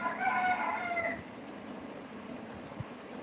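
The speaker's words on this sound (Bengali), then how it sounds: "মোরগ ডাকছে" The drawn-out final stretch of a rooster's crow at dawn rings out, then cuts off into quiet background hiss.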